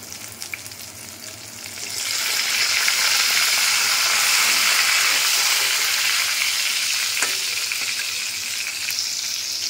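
Vegetables and eggs fry in a pan, building within two seconds into a loud, continuous close sizzle that holds steady to the end with occasional stirring.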